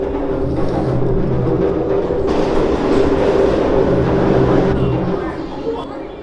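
A New York City subway train rumbles and hums steadily at close range, with a metallic ringing tone and rattling carriage noise that rises and falls, and faint voices mixed in.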